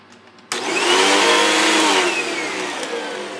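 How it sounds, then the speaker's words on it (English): A Hoover WindTunnel 2 Rewind vacuum cleaner switches on abruptly and runs with a loud, close, steady whooshing whine that eases slightly as it settles. "So this is what the Hoover Windtunnel 2 rewind looks like. So this is what it actually sounds like."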